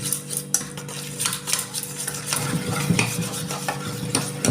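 Two spoons of sour yogurt with a pinch of salt whisked in a bowl, a brisk rhythmic scraping and tapping of a spoon against the dish, close and steady with no talk.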